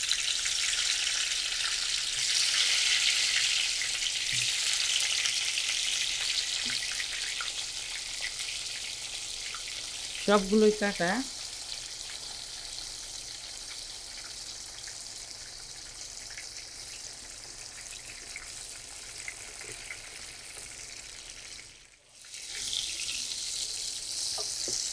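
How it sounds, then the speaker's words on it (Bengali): Eggplant slices coated in salt, turmeric and chili fry in oil in a frying pan, giving a steady soft sizzle with a brief clatter partway through and a short pause near the end; a voice speaks briefly. "বেগুনগুলো ভাজা আমার প্রায় হয়ে গেছে।"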